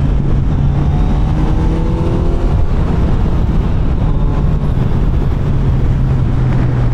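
A 2025 Kawasaki Z900 SE middleweight inline-four motorcycle engine runs with a steady, throaty drone and slight shifts in pitch as it revs, heard close and alone without any talking.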